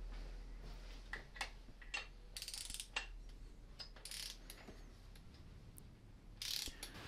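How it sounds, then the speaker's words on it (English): A torque wrench ratchets and clicks while tightening a bolt to 102 newton metres during timing chain replacement on a Mini One R50/R53 Tritec engine, a close series of sharp mechanical clicks and ratchet sounds over a low hum. "Wait for the old click again."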